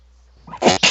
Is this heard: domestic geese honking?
no